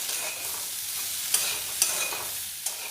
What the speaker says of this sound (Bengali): দিয়ে ভেন্ডিগুলো খুব ভালোভাবে ভেজে নেব